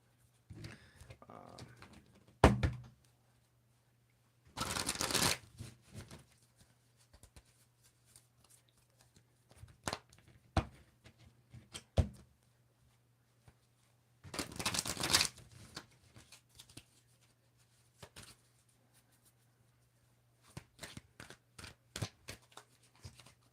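Tarot and oracle cards are shuffled by hand in several crisp, rapid riffling bursts separated by quieter stretches of soft card handling and light taps, close up over a low steady hum.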